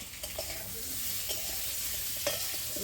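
Potatoes fry in a pan with a constant, fairly soft sizzle and a few faint scraping stirs, one sharper clink near the end.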